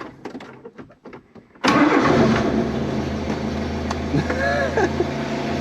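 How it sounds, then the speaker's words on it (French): Quiet rustling and faint sounds give way to a Renault 4L engine cranking and catching, then idling loudly and steadily up close. "maintenant que la 4L a démarré, ça y est, on y va"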